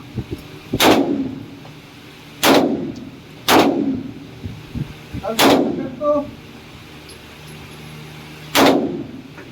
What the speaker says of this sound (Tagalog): Continue firing.